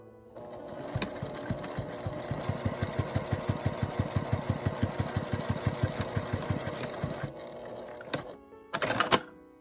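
Sewing machine stitching a vertical seam on a handmade L-shaped zipper wallet, a steady rapid mechanical chatter running for most of the clip, then stopping, followed by a brief whirring burst near the end; no talking.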